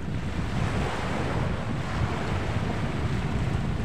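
Rough, choppy sea surging against the shore at Sitio Recudo, San Andres, Quezon, a steady loud roar of waves mixed with heavy wind buffeting the microphone, with no voices heard.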